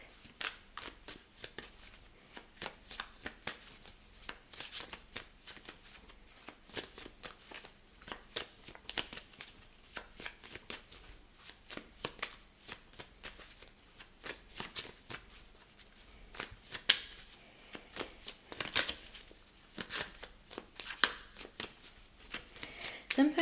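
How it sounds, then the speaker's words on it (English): Tarot cards being shuffled by hand, a long run of quick riffling and sliding strokes up close, soft and steady with small bursts, no voice over it. "I'm one of those people that likes hearing the shuffling when I watch readings myself"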